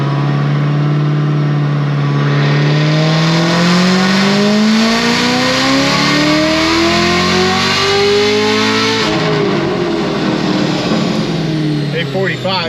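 A 1000hp Chevrolet Camaro ZL1 with a stock-blower LT4 engine roars through a dyno pull, its loud, steady engine note climbing in pitch for about nine seconds before easing off and dropping as the run winds down.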